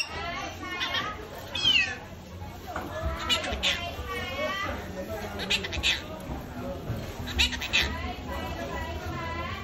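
A monk parakeet imitates a cat, giving a series of high, wavering meow-like calls at a moderate distance, interleaved with softer chatter and nearby human voices.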